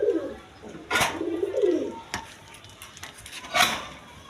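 Cooing from silver pigeons housed in pairs with chicks swells in two low warbling phrases, close by, broken by several sharp clicks and taps like metal or dishware knocking nearby.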